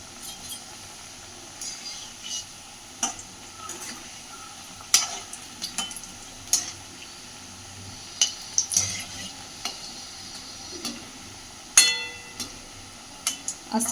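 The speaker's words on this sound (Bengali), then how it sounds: "পিস করে রাখা গজার পিসগুলো সব ভেজে নেব সুন্দর করে।" Cut gaja pastry pieces fry slowly in oil over a medium flame, a soft bubbling sizzle under repeated scrapes and clinks of a spatula against the pan, heard close.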